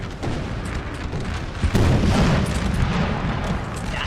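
Cannon fire rumbling across a Napoleon: Total War battlefield between French and Austrian armies, a continuous low roar of distant booms that swells into a heavier burst partway through.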